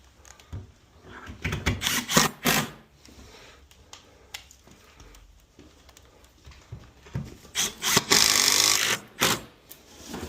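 Screws go in while a whole-house water filter is mounted, heard as bursts of grinding driver whir and knocking with quiet gaps between them and a longer, louder run near the end.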